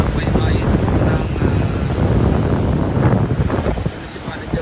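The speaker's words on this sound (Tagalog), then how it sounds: "kasalukuyan po binabayo ng mga malaking alon" Large waves and strong wind batter the coast at the Sagñay, Camarines Sur port during Typhoon Opong. The sound is a loud, constant roar with heavy wind buffeting against the microphone and no break.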